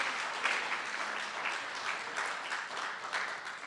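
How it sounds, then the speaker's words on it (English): A crowd at the CWI Equity Summit 2022 claps steadily for a speaker, a dense, continuous wash of applause that stays fairly even from start to finish with no voices above it. "Give her a round of applause."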